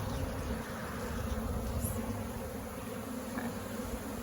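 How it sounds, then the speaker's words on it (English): A steady, soft hum of many honeybees buzzing close by at an open hive, continuous and droning without a break. "I'm just gonna brush the bees off again"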